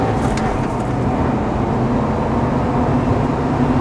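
A Mitsubishi Evo X or 2008 Subaru Impreza STI accelerating hard in a 0 to 100 test, a continuous loud engine and road roar heard from inside the car, steady throughout with no voices.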